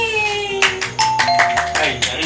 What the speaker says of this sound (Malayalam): കോളി ബെൽ അടിക്കുന്നു